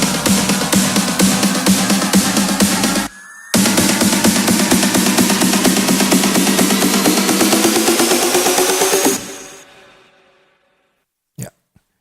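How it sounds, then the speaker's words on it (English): Layered electronic drums of a build section in an Ableton Live remake of an EDM track pound loud and dense, break off briefly, surge again, then cut out into silence with a single closing hit. "I have a lot of drums playing for the build."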